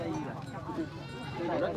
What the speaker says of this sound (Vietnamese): có một đàn dê mới đến đây các bạn ơi